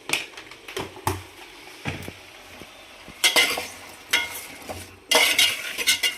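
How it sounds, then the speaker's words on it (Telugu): Vegetables are stirred with salt and turmeric in a pot for sambar, giving close, irregular scraping clinks of spoon on metal with brief louder bursts and a light sizzle. "ఉప్పు, పసుపు మంచిగా పట్టేలాగా కలుపుకోండి."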